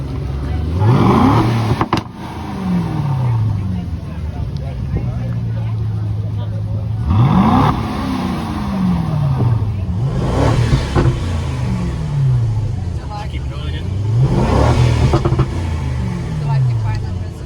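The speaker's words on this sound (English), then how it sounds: "That 4-litre twin-turbo V8 sounds absolutely insane." Aston Martin DB12 with a 4-litre twin-turbo V8, revved repeatedly outside the factory car park: loud rising surges of engine noise in three or four bursts, each climbing in pitch and falling back, over a steady idle with voices faintly present.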